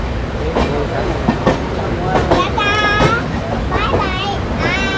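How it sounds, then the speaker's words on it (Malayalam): The Navjeevan Express rolls past on an Indian railway line, heard from aboard another train, with loud rumbling and clattering wheels, squealing metallic tones and people talking nearby. "ഹൈദരാബാദ് അല്ലേ, അല്ല അഹമ്മദാബാദ്. അതാണ് നവജീവൻ എക്സ്പ്രസ്."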